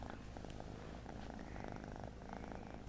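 A house cat purrs steadily and softly close by, a continuous low rumbling vibration with no voices over it.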